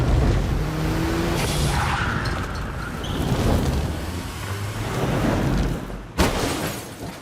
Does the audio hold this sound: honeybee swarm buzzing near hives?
no